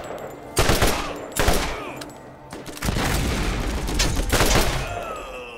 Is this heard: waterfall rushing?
no